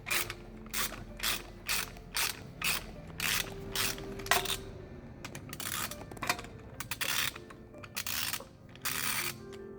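Hand ratchet backing out a screw from the exhaust manifold of a Jaguar XJ6: repeated bursts of crisp clicking, close and fairly quiet, with short pauses between strokes.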